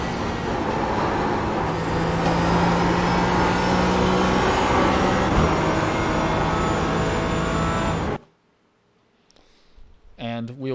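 A Porsche GT4 race car in the iRacing sim at Mosport holds a loud, steady engine drone for about eight seconds, then cuts abruptly to near silence before a brief rising whine near the end.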